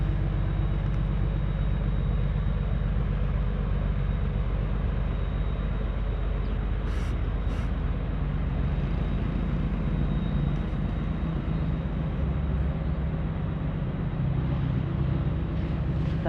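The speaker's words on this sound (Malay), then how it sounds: "Kita tengok suasana kapal." A steady, loud engine drone and hull rumble fill the deck of a fishing boat on a surfcasting trip off the Tok Bali estuary, a constant low roar with no pauses and a few faint high clicks.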